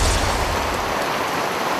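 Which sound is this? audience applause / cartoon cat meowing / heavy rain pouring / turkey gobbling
heavy rain pouring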